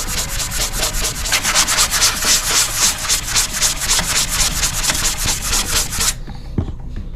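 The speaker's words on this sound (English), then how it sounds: "the sanding sponge takes off this excess wood filler very nicely" A sanding sponge rubs wood filler and primer off a wooden fireplace feature wall, a steady rhythmic scratching of quick back-and-forth strokes, close and loud, stopping abruptly near the end.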